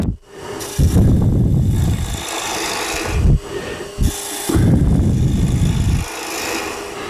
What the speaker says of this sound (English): I'd rough out the shape, then I would use it in bevel rubbing mode to clean that up.